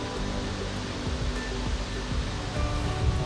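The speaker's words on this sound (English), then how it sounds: "Ooh, there's waterfalls over there." A steady, broad rush of falling water, constant and moderately distant, with no voices over it.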